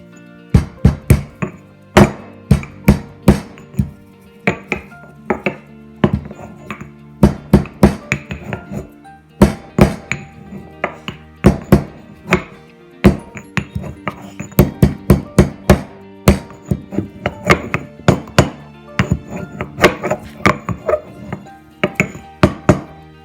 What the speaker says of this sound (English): if you want to add in ginger, you add your ginger and grind it.